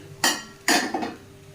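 Two sharp metallic scrapes and clinks of a spoon stirring egg fried rice with fried eggs in a pan, close and distinct, with a faint steady hum underneath and no talking.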